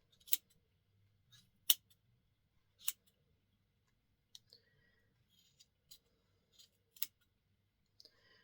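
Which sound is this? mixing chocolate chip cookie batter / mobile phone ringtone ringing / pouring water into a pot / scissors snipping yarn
scissors snipping yarn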